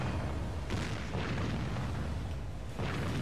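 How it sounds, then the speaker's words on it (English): Heavy booms from battleship main guns firing in the naval game Warship Gunner 2, several deep blasts rolling over a constant loud rumble of battle. "they're shooting at aircraft with their main guns"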